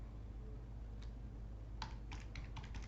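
A computer keyboard clicks under quiet typing, starting with a single keystroke and then a quick run of several taps near the end, close and soft over a low background hum.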